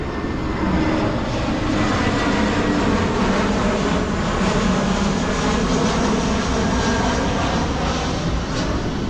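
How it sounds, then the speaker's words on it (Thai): A fixed-wing airplane roars loudly and steadily overhead near a rest area, a continuous broadband engine drone that fills the whole stretch without letting up. "แต่ถ้าพักตรงนี้ก็อาจจะ ลำคาญเสียงเครื่องบินหน่อย"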